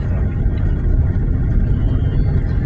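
Steady traffic rumble from cars on Pasian Rizal Highway, a busy widened road in Laguna, a continuous low drone with no break and no voices.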